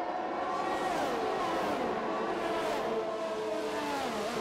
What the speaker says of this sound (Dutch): je hoort de toeren gewoon zakken